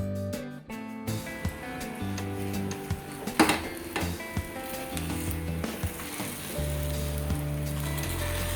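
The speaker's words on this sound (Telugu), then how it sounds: "దీన్ని బాగా మనం ఫ్రై చేయాలి." Eggs fry in oil in a hot pan for a fluffy breakfast egg fry roast, giving a steady close sizzle with scattered crackles and pops throughout.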